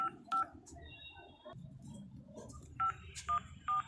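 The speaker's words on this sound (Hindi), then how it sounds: "मैंने सुहानी को फोन मिलाया।" Telephone keypad tones sound as a number is dialed, a few short evenly spaced beeps in two clusters, quiet and near, with faint background murmur between them.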